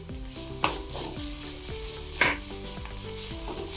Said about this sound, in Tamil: இப்போ தேங்காவையும் காஞ்ச மிளகாவை கோர்ஸாக ஒரு ஓட்டியிருக்கோம், அதை இப்போ போட்டுடலாம்.